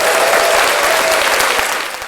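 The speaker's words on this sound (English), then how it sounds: "Give to him a all round of applause as well." A crowd applauds a British forces gathering with dense, sustained clapping, steady and loud through most of the stretch before easing slightly at the end.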